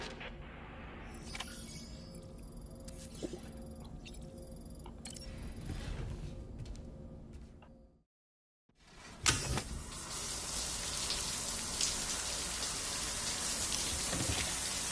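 Steady rain falling in the video game Death Stranding 2, a dense, hissing wash of drops that briefly cuts out to silence, then returns louder and brighter, with faint clicks and thumps mixed in.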